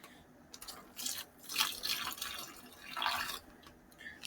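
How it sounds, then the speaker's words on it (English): About ten millilitres of buffer solution poured onto crushed fruit in a home DNA extraction, giving soft, close liquid trickles and drips in two short bursts, with quiet pauses between. "Now I'm going to add some buffer solution."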